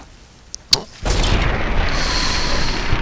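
A sharp gunshot crack in Fallout: New Vegas, then a sudden loud burst of noisy rumble that continues steadily.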